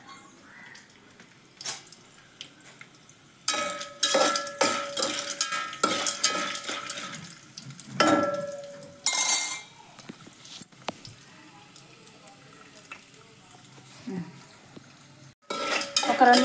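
Popcorn kernels tossed into hot oil in a home kitchen pan, clattering and sizzling with sharp metallic scrapes and stirring knocks, loud bursts between quieter crackling stretches.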